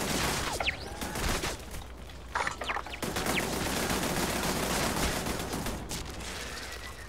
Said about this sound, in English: Having so much fun gunning down these guys with the turrets